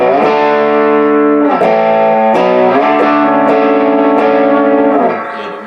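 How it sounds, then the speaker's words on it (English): Electric guitar through a Paul Cochrane Timmy V2 overdrive pedal with gain at about 12 o'clock and bass and treble fully cut, playing loud, sustained overdriven chords that change every second or so, then fading at the end. "Now if you roll the distortion up, the gain up a little bit more to say 12 o'clock."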